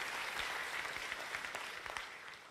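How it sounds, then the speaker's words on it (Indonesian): A church congregation at a Sunday morning service claps steadily, many hands making a continuous, even patter throughout, fairly distant with a roomy echo and no voices on top. "Yang mau menang dan mau berkat kasih tepuk tangan yuk buat Tuhan kita Yesus Kristus."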